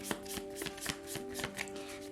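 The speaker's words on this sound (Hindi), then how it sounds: "तो चलिए शफल कर लेते हैं कुंभ राशि एक्वेरियस साइन के लिए।" Oracle cards shuffled by hand for a reading, giving a series of quick, soft riffling and tapping bursts in an uneven rhythm, close and fairly quiet, with a steady faint hum underneath.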